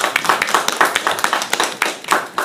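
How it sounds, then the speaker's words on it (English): An audience at a speaker-series talk gives a short round of applause, a quick cluster of close, overlapping hand claps lasting a couple of seconds. "what we need to do really quickly now is give them a round of applause"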